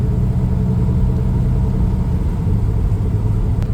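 A 1969 Camaro Super Sport cruising on the highway, its engine a steady loud low rumble with road drone, continuous from inside the car, with no voices.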